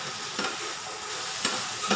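Cluster beans sauté in hot oil in a pan, a steady soft sizzle broken by a few short scraping stirs, close and alone without speech.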